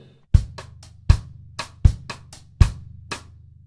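A drum kit plays a swung bar at a quiet dynamic, closed hi-hats ticking in triplet feel with cross-stick clicks between them over a steady four-on-the-floor kick, crisp and close with no talking.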